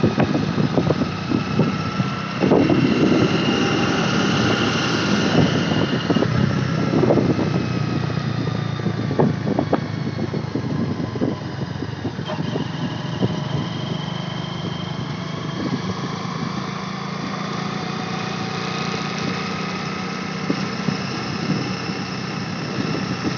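A motorcycle engine runs continuously, with a steady droning hum and some rougher bursts early on, then a smoother sustained tone, no voices heard.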